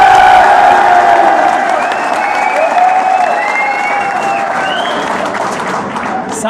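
A rally crowd applauds loudly, sustained dense clapping mixed with cheers and shouting voices, fading slightly toward the end.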